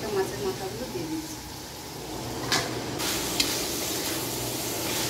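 Rohu fish heads dropped into a pan with ground coriander and cumin, setting off a steady sizzle and fry, with a few brief scraping clatters midway and a voice speaking over it.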